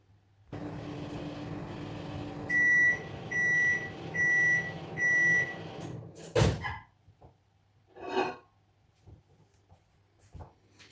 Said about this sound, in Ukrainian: Зараз поставимо мікрохвильовку.